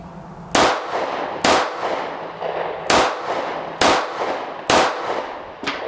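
Smith & Wesson CSX micro compact 9mm pistol fired one-handed at a target, five sharp loud shots spaced roughly one second apart, each cracking hard and ringing off quickly.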